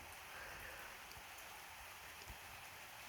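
Soft, steady rainfall hisses evenly throughout, with occasional faint low thumps of drops, no voices present.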